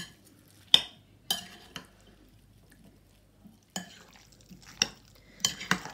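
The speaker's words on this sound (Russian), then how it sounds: "Должен быть такой хорошо промазанный салатик. И потихоньку перемешиваем." A Norwegian Christmas herring and beet salad is mixed slowly in a bowl, giving scattered soft scrapes and clinks of a utensil separated by quiet pauses, close and fairly faint, with no voices.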